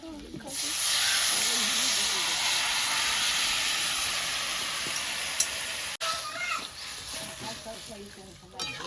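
Cucumber curry with small fish hits a hot pan and sizzles loudly, a broad steady hiss that eases slightly and then continues more unevenly after a brief break.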